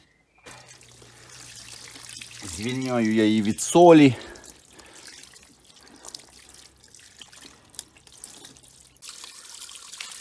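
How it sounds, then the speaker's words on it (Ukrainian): Cold tap water running steadily over salted pike while the fish is rinsed in a kitchen sink: a soft, continuous splashing trickle, briefly joined by a speaking voice partway through. "Зараз промиваю під холодною протічною водою і вимочу ще кілька годин."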